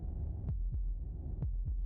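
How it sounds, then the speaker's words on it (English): A heartbeat sound effect from the game Slay The Princess: deep, muffled double thumps in a slow steady rhythm, two pairs of beats over a low hum, close and alone. "That was the sound of a heartbeat"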